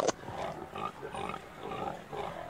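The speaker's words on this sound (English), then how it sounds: "it's carnivorous pig bats" Cartoon carnivorous pig bats grunt and snort in several short, rough bursts, close and moderately loud, with no talking.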